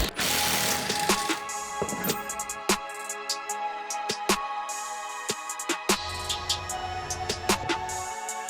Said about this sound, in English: gotta unbolt these because all this is an aluminum structure